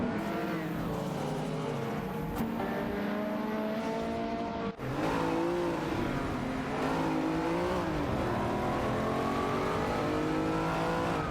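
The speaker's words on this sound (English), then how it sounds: "Cedric and Maya are both behind the wheels of a Ferrari 308 GTs." Ferrari 308 GTS race cars in a racing video game: a continuous engine drone that rises and falls through revs and gear changes, broken by a brief sharp click partway through, with no voices.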